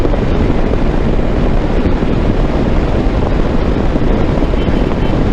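A Hero Xpulse 200 BS6 motorcycle with an upgraded seat cruises along National Highway 163, giving a steady, loud, wind-buffeted roar that holds evenly throughout with no voices.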